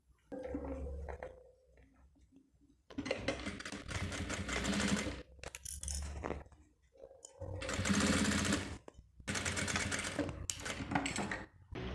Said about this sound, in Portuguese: E aí eu passo uma costura bem nessa linha aqui.